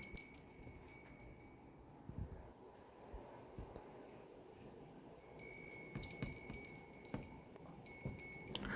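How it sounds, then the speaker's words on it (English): A small rainbow decorative bell in a wardrobe chimes in a few light, bright rings, fading out between strikes, with a quiet muffled background and no talking. "this rainbow bell just sounds so pleasant"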